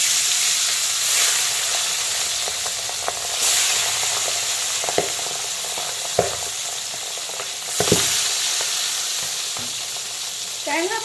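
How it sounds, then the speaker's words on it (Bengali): Tangra fish coated in salt, turmeric and a little oil fry in hot refined oil: a close, steady hiss of sizzling with sharp crackling bursts as each piece goes into the pan. "এখন আমি লবণ আর হলুদ মাখানো আর তার সাথে কিছুটা তেল মাখানো ট্যাংরা মাছগুলোকে একে একে তেলের মধ্যে"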